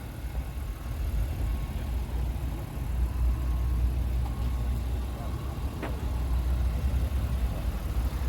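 A 2025 Acura MDX A-Spec, remote-started, idles with a low steady engine hum at moderate distance, with a faint brief click partway through.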